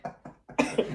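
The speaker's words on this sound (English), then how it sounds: "Here, cough it up." A person coughs several times in quick succession, a few short hacking bursts building to louder, harsher coughs, close and clear with no talk.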